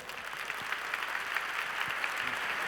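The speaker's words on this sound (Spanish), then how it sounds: "recibamos con un fuerte aplauso a Juan Carrión." An audience welcoming a speaker to the stage for a talk breaks into steady, full applause, a dense wash of many hands clapping that holds evenly throughout.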